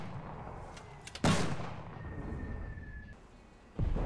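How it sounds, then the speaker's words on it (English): Two sharp, loud M2 mortar launches about two and a half seconds apart, each a hard percussive thump with a brief rumble, with no voices. "let's see how this M2 mortar does the job."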